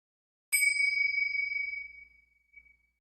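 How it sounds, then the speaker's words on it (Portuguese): Kartalas, also called mandiras, are a pair of small metal hand bells struck together. A single bright, clear ring sounds and fades over about a second and a half, followed by a faint second light touch, with nothing else around it. "São esses dois sinos de metal que a gente toca dessa maneira"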